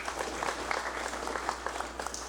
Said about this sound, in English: So let us also give her a round of applause.